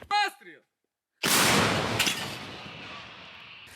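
A single loud artillery gunshot booms out after a brief voice and silence near Pokrovsk, Ukraine, its roar slowly fading into a long rumbling tail.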